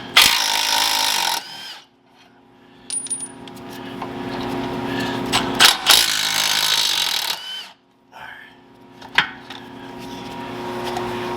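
A power tool spins off the lower control arm bolts on a 2013–2020 Ford Fusion during rear shock replacement, two loud whirring bursts with a quiet gap and a metallic clink between them.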